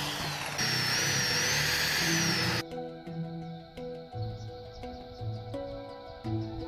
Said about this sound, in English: used the spade bit to drill some holes in the center for some bearings to fit